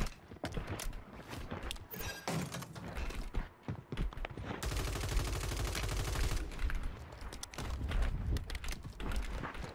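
Rapid automatic gunfire in Call of Duty Warzone 3, with sustained bursts of close, dense shots and fainter intermittent pops and game effects around them.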